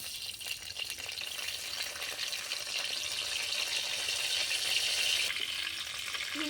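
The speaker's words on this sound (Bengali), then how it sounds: "আদা রসুন কুচিটা ভেজে নিয়েছি, সেই তেলে দিয়ে দিব ভিনিগার" Vinegar hitting hot oil with fried chopped ginger and garlic, a steady bright hiss and sizzle at moderate level throughout, unbroken and without voices.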